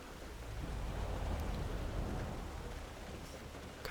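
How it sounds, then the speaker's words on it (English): Steady rain falls in the Forza Horizon racing game, a broad, even hiss at moderate level with a few faint high ticks near the end; no talking. "it's really raining heavy here"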